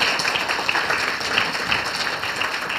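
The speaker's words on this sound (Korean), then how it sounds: "Just give a round of applause." A congregation at a church closing worship service claps together, a continuous, fairly close burst of many hands with no talking, holding steady for its whole length.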